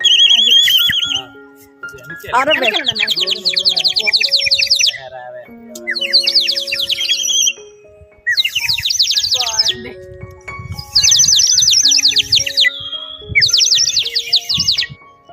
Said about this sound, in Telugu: పిచ్చుక బొమ్మ లోపల వాటర్ వేస్తే మంచి సౌండ్ వస్తుంది ఒకసారి వినండి